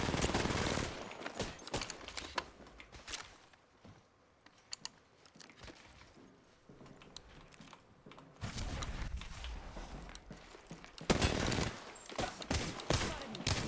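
Gunfire from the Apex Legends video game crackles in rapid, irregular bursts, sharp close clicks and rattling volleys separated by quieter gaps.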